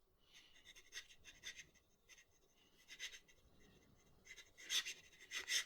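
An OPUS88 Koloro fountain pen nib scratches across paper in short, close bursts of dry, papery scraping, stroke by stroke with pauses between, faint overall and louder near the end, with no voices.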